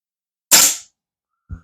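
A single sharp shot from a Diana Chaser air rifle fitted with a bottle conversion, a loud close crack that tails off quickly, followed about a second later by a softer, shorter thump.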